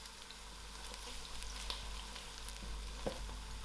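Thyme and curry leaves sizzling in hot oil in a pan, a steady close crackling fry with a few scrape-like stirring taps as they are mixed.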